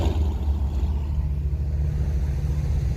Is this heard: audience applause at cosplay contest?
no